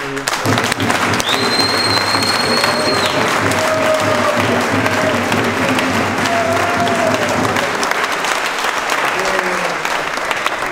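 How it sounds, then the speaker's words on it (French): A large crowd applauds loudly and continuously for several seconds at a rugby league team reception after a championship final, with a few whistles and shouts rising through the clapping. "On peut les applaudir."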